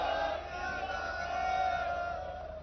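A crowd at a Punjabi political gathering roars a Sikh jaikara slogan in unison, a sustained, loud collective shout lasting a couple of seconds.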